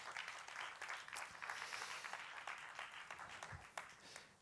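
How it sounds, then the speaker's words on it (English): An audience at a talk on open source hardware breaks into applause, a dense wash of many hands clapping steadily for a few seconds at moderate distance. "why don't you give yourselves a round of applause?"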